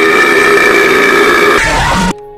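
A loud, drawn-out burp from the video game Minecraft, a low guttural belch lasting about two seconds that ends abruptly in silence.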